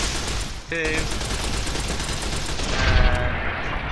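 Gunfire aimed at geckos in the Fallout: New Vegas video game, a steady loud barrage of rapid shots running through the whole clip with a few sharper blasts mixed in.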